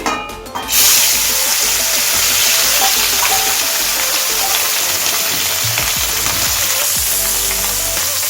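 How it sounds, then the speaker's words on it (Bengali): Small mourola fish frying in hot mustard oil in a kadai: a brief clatter as they go in, then a loud, steady, close sizzle that continues without a break. "তেল ভালো মতো গরম হয়ে গেলে আমি মাছগুলোকে দিয়ে দিচ্ছি।"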